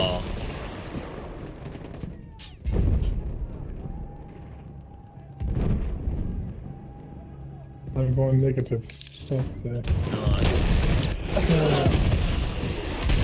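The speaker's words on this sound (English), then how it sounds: "Just endless explosions." Explosions and gunfire in the Battlefield 2042 video game, with heavy booms and rattling shots in dense, repeated bursts, and a player speaking briefly over the din.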